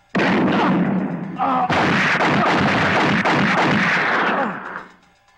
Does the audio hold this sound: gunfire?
yes